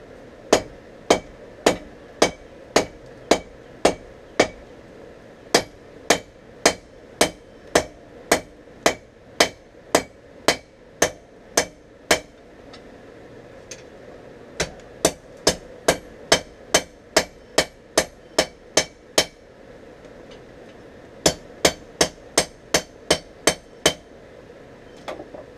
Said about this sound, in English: I'm actually using my cross peen to upset this back more, start giving the offset.